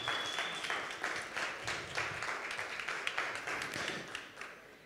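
Audience applause at a startup showcase event in Vienna, a steady wash of many hands clapping for about five seconds at moderate distance, fairly even with scattered sharper claps and no talk on top.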